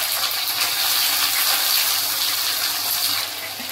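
Chopped onions and bay leaves sizzle loudly in hot oil for a chicken curry, a steady close hiss that stays continuous and slightly eases near the end.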